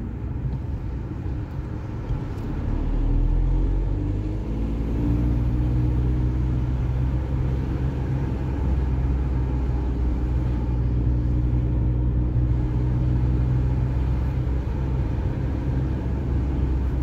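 A car on a driving lesson pulls away as the clutch comes up, its engine rumbling low and rising steadily from inside the cabin, then holding an even drone.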